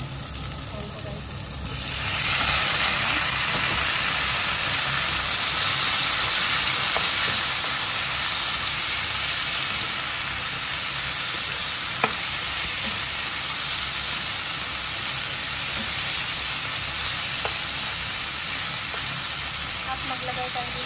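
Chicken sizzles loudly in a frying pan as pieces go back in, a dense continuous crackling hiss that jumps up after a quieter start and holds steady, with light stirring clicks.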